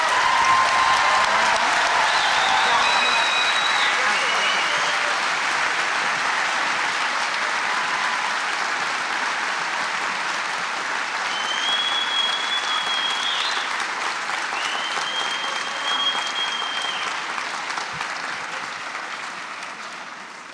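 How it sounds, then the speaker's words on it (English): An audience at a spring university convocation gives graduates a long, enthusiastic round of applause, dense steady clapping filling a large hall with a few whistles and cheers over it, fading slightly toward the end. "let's give an enthusiastic round of applause for these graduates"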